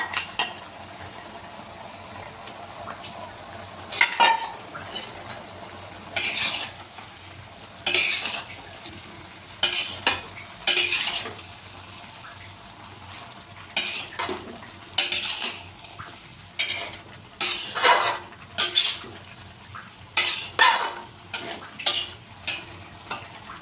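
Green chili and shelled peas stirred and fried in a pan for a bottle gourd greens curry, with repeated sharp scraping and clanking bursts of the utensil against the pan over a low steady sizzle.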